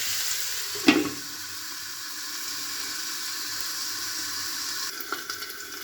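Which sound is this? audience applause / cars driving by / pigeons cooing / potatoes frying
potatoes frying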